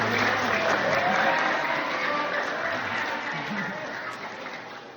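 Audience applause at a talk by an Al-Azhar alumnus, a steady dense wash of clapping throughout that slowly fades toward the end, with faint voices mixed in beneath it.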